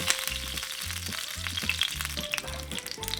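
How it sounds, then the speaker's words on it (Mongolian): Meat fries skin side down in hot oil in a pan, giving a loud, continuous crackling sizzle with sharp pops, while a steady rhythmic low thumping pattern runs underneath. "Хариулын тавгаа сайтар халаагаа тос хийгээд махныхаа арьстай талыг нь ихэж шарна."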